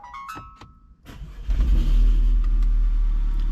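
An Audi with its fuel tank recently drained cranks after a few clicks and knocks, catches and settles into a loud, low engine rumble that holds steady.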